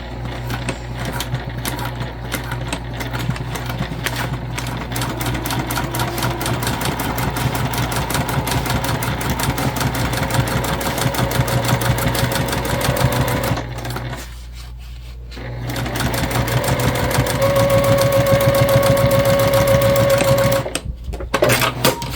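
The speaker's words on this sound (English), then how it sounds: "And I do backstitch at the beginning and at the end." A sewing machine stitches the seam of a crossbody bag, running in steady mechanical bursts with a brief pause for the backstitch at the start and end of the seam, close and clear throughout.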